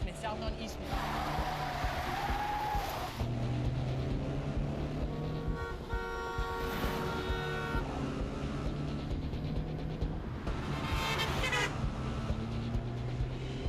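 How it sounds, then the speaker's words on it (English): In the video game Quantum Break, a car chase roars on with steady engine noise, horn toots and tire sounds throughout, while people talk over the action. "I do love me a good car chase, though."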